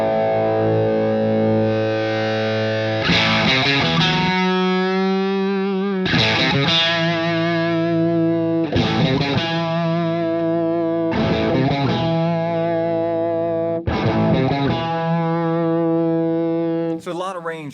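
An electric guitar through a Fuchs Mantis Jr amp rings out heavily distorted chords, struck about five times and left to sustain between strums, while the treble control is swept so the brightness shifts from chord to chord.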